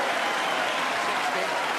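Snooker crowd at a world championship final applauding a frame win, a steady dense wash of clapping that fills the whole moment at close, even loudness.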